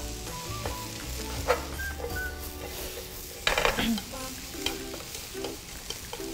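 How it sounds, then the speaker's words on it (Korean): Shiitake and button mushrooms sautéing with onion in a frying pan: a steady sizzle with a utensil stirring and scraping against the pan, plus a few sharper clinks, close and clear. "표고버섯과 양송이버섯이 수분이 굉장히 많기 때문에 이게 다 날아갈 때까지 오래도록 볶아주셔야지 맛의 풍미가 좋아져요"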